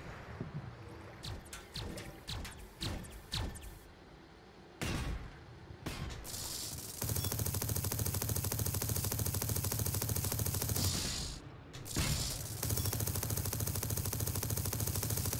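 Gunfire in the TerraTech vehicle-building game: a string of sharp separate shots early on, then a dense, loud, continuous barrage of rapid fire that briefly cuts out before resuming.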